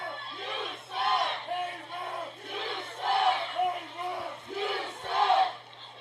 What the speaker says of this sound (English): Hear a little noise from the crowd. Hearing the chants